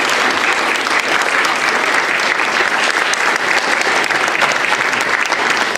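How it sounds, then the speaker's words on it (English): Applause from the audience at a youth candidate forum, a dense and steady roar of many hands clapping, loud and sustained without pause. "let's give one final round of applause for our candidates"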